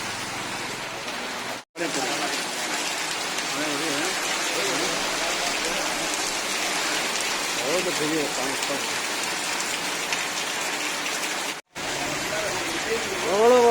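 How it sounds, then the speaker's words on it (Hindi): Heavy rain pouring down in Bolangir, a loud steady hiss of rainfall on surfaces that continues without letup, with brief breaks in the recording and a voice speaking faintly. "झमाझम वर्षा होती आई बलांगीर"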